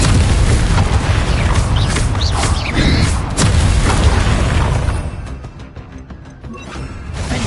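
Spell blasts from Bombarda and Confringo in Hogwarts Legacy burst as a rapid string of loud booms and crackling impacts, dense for about five seconds before thinning into quieter pops.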